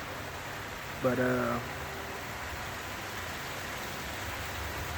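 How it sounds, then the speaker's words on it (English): Rain falls outdoors at night as a steady broadband hiss that runs throughout, with one short spoken word near the start. "It's raining."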